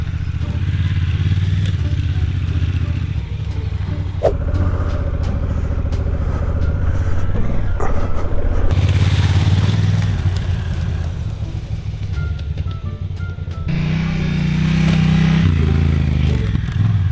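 A trail motorcycle ridden over a dirt trail, its engine droning steadily with shifting revs, plus clatter and scraping from the rough ground, loud and close throughout.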